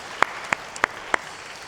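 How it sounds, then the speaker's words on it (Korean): Four sharp, evenly spaced handclaps ring out in a church service as the congregation applauds the worship team, fairly faint against a quiet room with no talking. "찬양팀 수고하셨는데 박수로 격려하겠습니다."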